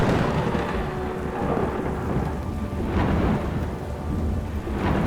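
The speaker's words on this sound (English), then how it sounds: "This storm is like literally about to just pelt us." Steady heavy rain pours down on a sailboat near Brisbane while deep thunder rumbles and rolls through, swelling louder in places, with no voices.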